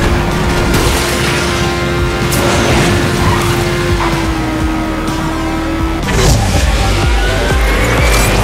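Game racing car from Asphalt 9 played on a Redmi 9 Prime, with a steady engine drone and tire screech through the clip and a sharper burst of skidding and impact noise near the end, loud and continuous.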